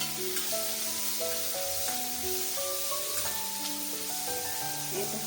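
Raw banana sautéing in a pan over a low flame, a soft continuous sizzle heard alone with quiet background tones.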